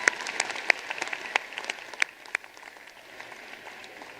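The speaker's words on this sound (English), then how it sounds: "Let's have a big round of applause for the graduates" A commencement audience at a university fall graduation gives scattered, fairly sparse applause for the graduates, individual claps standing out and thinning toward the end, heard from a distance in a large hall.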